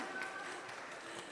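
Audience applause at an autism arts festival event, a soft, steady wash of many hands clapping heard from a distance, with faint speech-like sounds mixed in.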